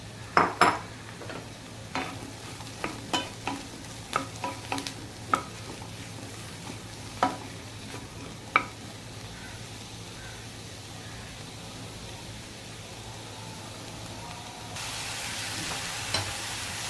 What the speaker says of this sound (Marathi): आता आपल्याला मशरूमचे असे मी मोठे मोठे तुकडे केले, ते घालून चांगले परतून घ्यायचे।